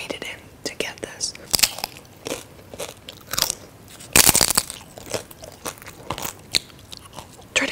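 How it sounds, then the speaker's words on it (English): Tortilla chips being bitten and chewed up close, sharp crunches landing in irregular bursts with softer mouth sounds in between, and quiet close-mic speech now and then. "I'm going to eat this with chips"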